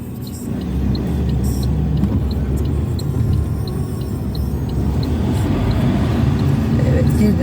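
A learner car in a driving-school practice area pulls away slowly, its engine a steady low rumble that builds gently, with faint ticking, presumably from the indicator, above it.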